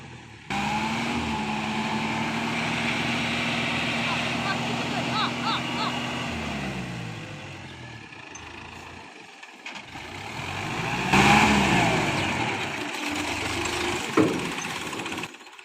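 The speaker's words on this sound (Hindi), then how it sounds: "ट्राली निकालने आए थे, ट्रैक्टर फंस चुका है" A stuck tractor towing a trolley, wedged near a tree on a rough track, its engine droning and revving steadily as it strains to pull free, then dropping and surging again, with voices talking over it.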